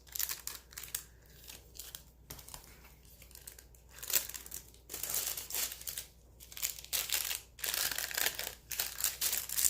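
A glassine bag holding star stickers being handled, producing bursts of crisp crinkling and rustling in an uneven rhythm, close and fairly loud, with no talk.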